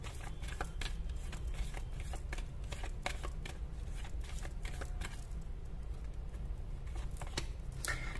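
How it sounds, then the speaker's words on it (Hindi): Tarot angel cards are shuffled by hand in a soft, continuous patter of riffling and sliding, close and quiet, with no talk over it. "मैं शफल कर रही हूँ कार्ड्स"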